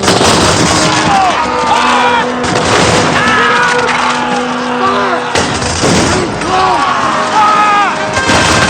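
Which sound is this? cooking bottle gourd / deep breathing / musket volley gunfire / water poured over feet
musket volley gunfire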